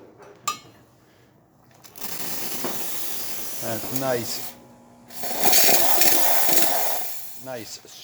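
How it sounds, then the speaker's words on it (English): A Rancilio Silvia espresso machine's steam wand purges in two long, loud hissing bursts, with a shorter burst before them, while a person talks briefly in between. "strong steam from this beautiful Rancilio Silvia"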